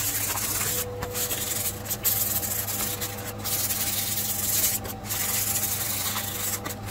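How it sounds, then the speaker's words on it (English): Sandpaper of 400 grit rubs over a guitar kit body in steady back-and-forth strokes, a close, continuous scratchy hiss with short pauses between passes. "hit this thing with some 400 grit sandpaper"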